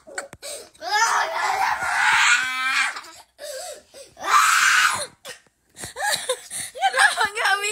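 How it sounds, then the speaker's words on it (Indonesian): A child screams and cries loudly in a home, with long wailing bursts broken by short pauses and other voices mixed in. "enggak boleh teriak"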